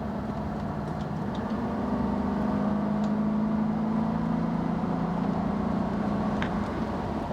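A 1985 Mercedes 500SEC's V8 engine pulls hard under acceleration, a steady low droning hum that swells slightly and holds, heard close with no talking.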